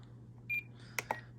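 An RC transmitter's timer gives a short, thin electronic beep, followed by two faint clicks, all close and quiet over a low steady hum.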